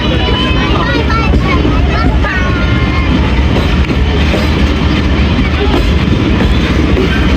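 Pakistan Railways 101 Up railcar running between Lahore and Rawalpindi through Gujranwala, a loud steady rumble and clatter of the moving train with squealing tones and passenger chatter mixed in throughout.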